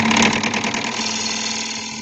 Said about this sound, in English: That thing got a Hemi in it.